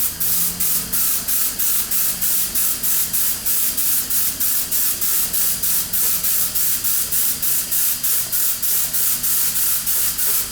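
Light mist coats of Testors clear top coat sprayed from an aerosol can onto a sanded metallic paint finish, a steady hiss broken into rapid, even pulses as the nozzle is tapped, close and loud with no talking.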